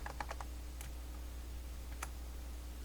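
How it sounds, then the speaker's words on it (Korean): Keys tapped on a computer keyboard while entering text into a shape for a PowerPoint mouse-avoiding game, a quick burst of clicks at the start, then a couple of isolated keystrokes later, close and quiet over a low steady hum. "여기 도형에다가 타자 입력해 볼게요."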